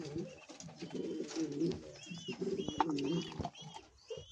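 Satin pigeons coo in soft, repeated throaty phrases nearby, rising and falling in a loose rhythm with a few brighter call notes mixed in.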